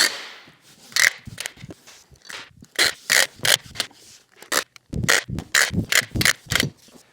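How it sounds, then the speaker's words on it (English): Masking tape pulled off the roll and run down the full length of a miter joint on a contemporary mantel build, a burst of close ripping, crackling strips repeated in quick succession with short pauses. "tape down the whole miter."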